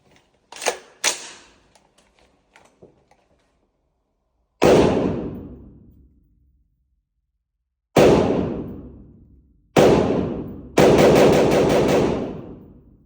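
A 10.5-inch TISAS ZPT 5.56 rifle fires Italian-made Fiocchi rounds at a shooting range. Faint mechanical clicks come first, then several loud, close, widely spaced shots, each with a long echoing tail.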